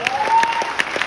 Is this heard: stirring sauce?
no